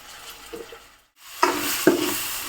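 Leftover chapati pieces with ginger garlic paste are mixed in a pan, a couple of close scraping strokes over a faint sizzle, broken by a brief silent gap.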